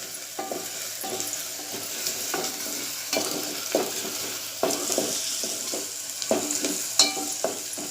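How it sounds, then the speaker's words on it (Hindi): Onions frying until soft in ghee for Konkani-style methi khichdi, a steady close sizzle broken by regular scraping strokes of a stirring spoon against the pan. "प्याज को हम ज़्यादा लाल नहीं करेंगे, सिर्फ नरम होने तक उसे घी में फ्राई करेंगे।"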